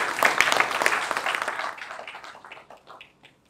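Audience applause at a technology and innovation forum in a hotel, a burst of many hands clapping that thins out and fades to scattered claps within a few seconds.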